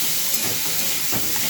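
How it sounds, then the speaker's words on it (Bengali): Mixed vegetables for chow mein fry in a hot pan, giving a steady broadband hiss and sizzle with a couple of brief stirring scrapes, moderately close and without any speech. "এবার সবজিগুলো দেওয়ার পর ভাজবো।"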